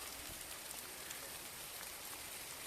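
Heavy rain pours steadily outdoors in a rural village setting, a dense, even hiss of drops that fills the whole clip with no voices.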